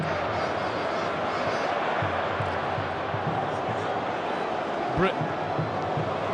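Bradford City supporters at the League Cup final against Swansea City roar in a dense, sustained stadium cheer that fills the whole stretch, with a commentator's voice speaking briefly over the crowd.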